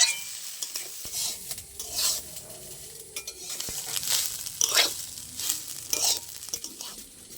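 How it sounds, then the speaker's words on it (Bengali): Rice grains frying in ghee in a pan while being stirred, with soft sizzling and repeated scraping strokes of a spoon against the pan, close and fairly quiet, with no talking. "চালটা একটু ভালো করে 5 মিনিট ভেজে নেব।"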